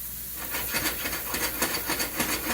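Mushroom and onion cook in a hot pan with a loud, continuous sizzling hiss and rhythmic rubbing scrapes of stirring, close up with no voices.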